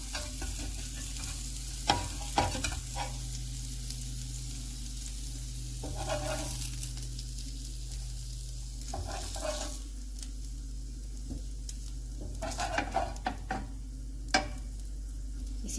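Turkish kebabs frying in a pan: a continuous low sizzle with occasional clinks and scrapes of a utensil, fairly quiet and close, with no talking.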